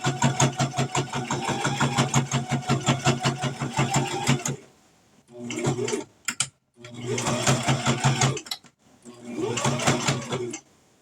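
A home sewing machine stitching fabric for coffee cup cozies, a fast, loud, regular mechanical whir that runs steadily, then stops and restarts in short bursts, with no talking.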